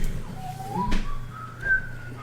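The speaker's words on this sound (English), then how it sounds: "that under your breath whistling, probably bloody irritating" Someone whistles softly under their breath, a thin wavering tune of a few sliding, sustained notes, close to the microphone with a low background hum and a brief knock partway through.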